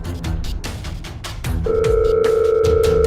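A mobile phone rings in the Sakura School Simulator game: a steady electronic tone starts partway through and holds loudly to the end, after a stretch of low muffled game ambience.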